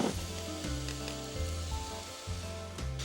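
Onions sizzling in frying oil in a pan while a tomato chili is being cooked. A steady, soft crackle is heard close up, with light clinks of stirring on top.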